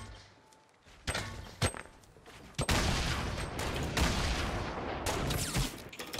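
Gunfire in the Fortnite video game: loud, sharp shots crack over a steady roar of game noise, a few spaced reports early, then a dense, continuous stretch of firing and impacts.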